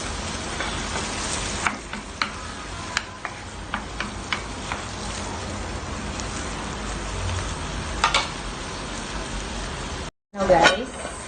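Chopped tomato cooks down in a pan for a Filipino menudo with minced beef, giving a soft, steady sizzle with scattered ticks and stirring clicks, and a voice talking over it.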